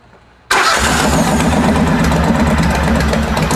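A Ridley automatic motorcycle's engine fires up abruptly after a brief quiet moment and settles into a loud, steady idle close by.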